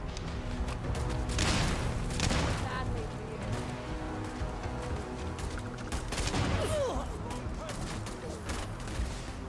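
Gunfire in the Starfield video game in survival mode, with repeated bursts of shots and booms over a continuous game soundscape while a player talks at times.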